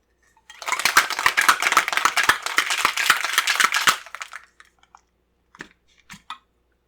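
Cocktail shaker with a lilac fizz cocktail shaken hard: a rapid, loud rattle of ice for about three seconds, then a few separate clinks as it stops.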